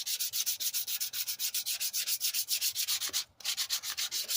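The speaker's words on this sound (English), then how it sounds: "Clean off the extra rustiness. Places like this, sand it now" Rust is sanded off a part from an MTD mower in brisk, regular back-and-forth strokes, close and loud, with one brief pause near the end.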